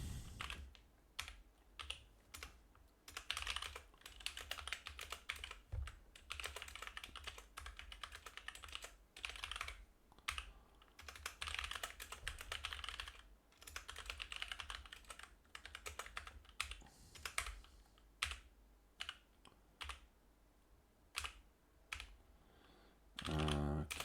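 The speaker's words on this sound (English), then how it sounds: "Let's type that." Rapid bursts of typing on a computer keyboard, close and crisp, with clusters of keystrokes separated by short pauses throughout.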